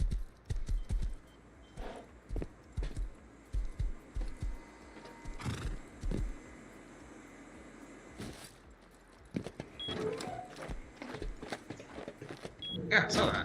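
Horses in the survival game Rust clop along in uneven bursts of sharp hoof strikes, with a whinny and mixed game sounds as people talk over them.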